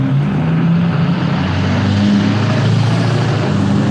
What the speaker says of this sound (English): All these loud diesel trucks this morning.